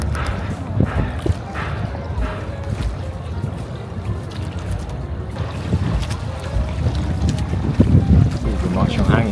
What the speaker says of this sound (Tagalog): Gumakas yung hangin.